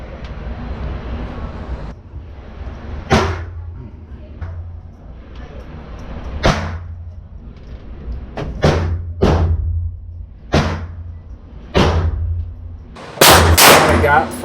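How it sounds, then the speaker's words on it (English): Glock 19 pistol fired at a target 10 yards away at an outdoor range: about eight loud, sharp reports, unevenly spaced over several seconds, with a couple in quick succession near the end, over a steady low background hum. "my first 5 shots at 10 yards, which is very decent"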